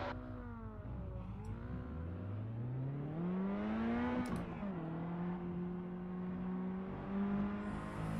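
Simulated race car engines in the iRacing video game climb steadily in pitch during a rolling start behind a safety car, with a smooth, loud whine and no talking over it.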